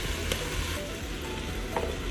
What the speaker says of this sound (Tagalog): we're going to saute the garlic